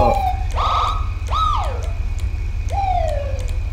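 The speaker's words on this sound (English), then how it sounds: "Every time my siren has to go off because I have to hit the left button." A police car siren in the LSPDFR police mod for a driving game, three short rising and falling yelps and chirps over a steady low engine drone, loud and close.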